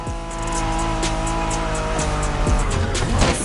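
A Honda NSX sports car races in a video game, its engine revving up and down through gear shifts with tire squeals and skidding, loud and continuous with no talk.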